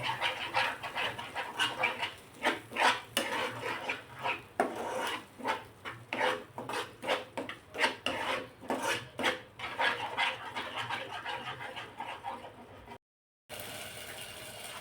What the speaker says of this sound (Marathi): मध्यम आचेवरच हा मसाला आपण परतून घेणार आहोत